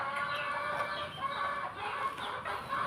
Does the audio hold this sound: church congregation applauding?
no